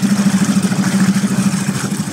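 A Suzuki DF6 four-stroke outboard motor runs in gear during running-in, a close, loud, even putter with a rapid regular pulse.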